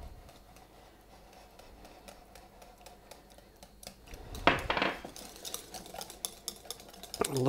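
A utensil stirs white balsamic vinegar into buttermilk ranch dressing in a bowl, with faint clinks and scraping that grow into quick, louder clattering strokes toward the end, heard up close with no talking.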